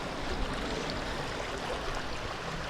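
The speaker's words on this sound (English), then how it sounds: "I thought I heard a creek coming up here, but nope." Water flows beside a trail along the Russian River in a steady, even creek-like rush with no breaks, soft and unchanging.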